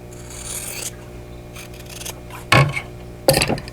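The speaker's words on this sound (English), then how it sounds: "I'm going to trim off this outer corner" A short rasping cut as an outer fabric corner is trimmed off a vintage quilt block, heard as a soft scrape followed by two louder, brief snips close by, with no talking.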